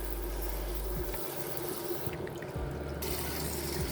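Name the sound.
cold tap water running over green beans in a strainer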